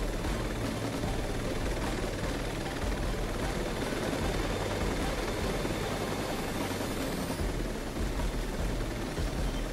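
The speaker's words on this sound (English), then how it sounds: "Nope, that's the police helicopter." Steady, close thrumming rotor and engine noise from a police helicopter in Watch Dogs 2, a constant loud drone with no breaks and no talk over it.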